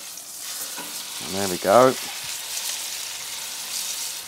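A pork and fillet steak roll searing in a hot pan, with a steady close sizzle throughout and a brief spoken remark partway through.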